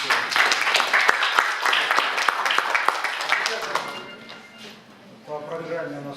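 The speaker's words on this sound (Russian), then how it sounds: "Давайте похлопаем." Festival audience applauding in a hall, dense sustained clapping for about four seconds that fades out, followed by a quieter stretch where a voice begins over lingering sparse claps.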